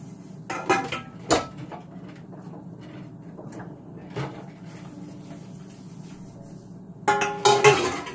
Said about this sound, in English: Washing a couple dishes over here.